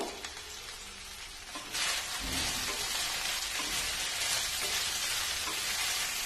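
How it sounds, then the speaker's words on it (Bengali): Vegetables and chopped tomato frying for a fish stew, a dense hiss that swells louder once they hit the pan and then holds as a steady sizzle with faint stirring. "তার সাথে টমেটো কুচিটাও দিয়ে দিচ্ছি দিয়ে এগুলোকে একটু ভালো করে ভাজবো"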